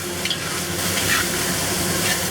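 Shanghai noodles stir-fried with Napa cabbage and green onion, a steady close sizzle with scraping and tossing in the pan, continuous and fairly loud, no talking.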